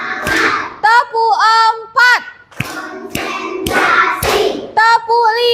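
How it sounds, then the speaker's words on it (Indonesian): Hands clap in a steady series during a children's lesson, sharp slaps alternating with a voice that chants the count aloud between them. "Tepuk 1, tepuk 2, tepuk 3,"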